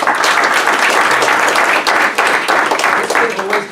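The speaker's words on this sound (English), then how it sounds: "You're clapping" An audience at an evening talk applauds as the speaker is introduced, a dense, loud, continuous wash of many hands clapping close by throughout.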